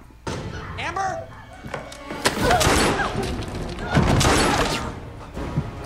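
Rapid gunfire from the movie Scream V, with sharp bursts and booming shots amid loud movie noise, mixed with excited voices reacting over the action.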